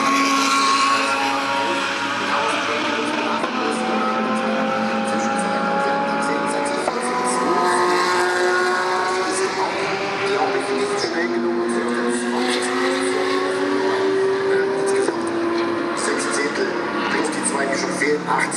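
GT Masters race cars in Saturday qualifying at the Hockenheimring roar past at a distance, engines rising in pitch through gearshifts against steady track ambience, with a commentator talking over them.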